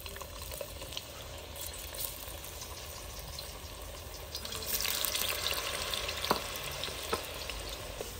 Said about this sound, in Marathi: आपण आता फिंगर चिप्स तळून घेऊया